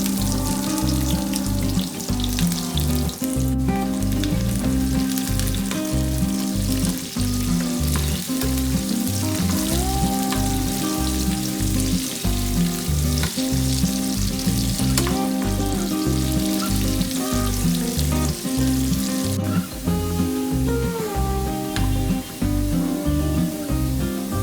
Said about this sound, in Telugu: ఆయిల్ వేడైన తర్వాత ఉల్లిపాయలు ఫ్రై చేసుకోవాలి.